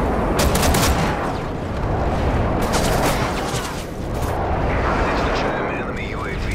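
Explosions and gunfire rumble in Call of Duty: Modern Warfare 3 on PS3 as an enemy airstrike hits. Dense, loud booms and crackling bursts come in waves, with game voice callouts over them.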